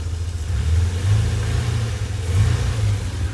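Nissan S-chassis project car with an SR engine running after being brought back to life, a steady loud engine drone with rising and falling revs, heard close up without talk.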